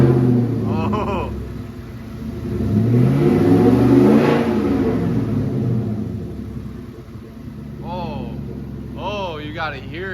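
A 2020 Ford F150 4x4 with an ON3 twin turbo engine revs hard, its rumbling roar swelling to a peak and fading, while people talk excitedly over it.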